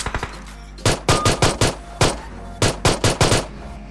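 Rapid pistol gunfire in a shooting video game, bursts of sharp loud shots in quick succession with short pauses between the clusters.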